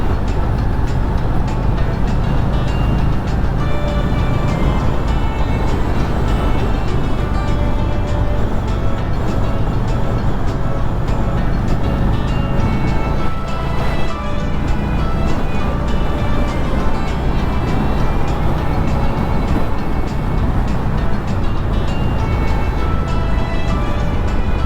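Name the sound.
motorcycle riding at about 60 km/h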